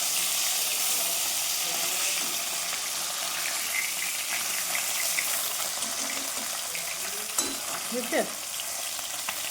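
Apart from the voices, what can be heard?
food frying and spattering in a pan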